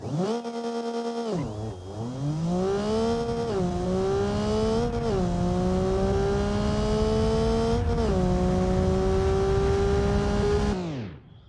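A car in the BeamNG driving game launches hard in second gear. The engine revs with a loud, steady rising drone, and one pitch dip marks each gear change before the sound cuts off abruptly at the end.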